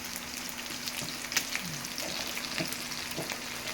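Apollo fish frying in hot oil in a pan, a close, steady sizzle and crackle with light spatter and stirring scrapes, loud and continuous.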